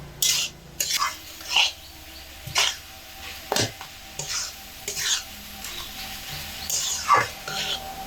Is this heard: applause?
no